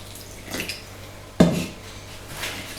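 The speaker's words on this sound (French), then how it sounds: "Donc nous allons mélanger un petit peu." Eggless-milk crêpe batter of flour and water being mixed in a bowl: soft scraping strokes with one sharp clink of utensil on bowl, fairly close and unhurried.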